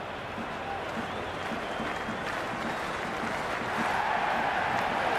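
A crowd in the cricket video game Cricket 26 gives steady applause and murmur as a continuous wash of sound. The level rises slightly toward the end, with a faint voice now and then underneath.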